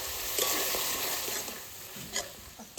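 Masala spiced with Kashmiri chili powder fries in a pan for a Bengali doi chingri prawn curry, giving a steady bright sizzle with a few scraping stirs near the end, close and moderately loud.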